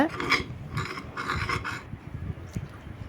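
Hands mix wheat flour clay dough with soft, rough rubbing and rasping strokes in short bursts, close and fairly quiet, with no voices.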